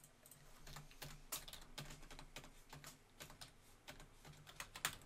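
Quick, uneven keystrokes patter on a computer keyboard as a short sign-off is typed into a letterhead design in Adobe Illustrator, close and clear with no talking.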